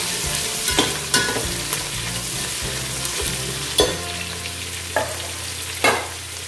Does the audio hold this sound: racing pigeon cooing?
no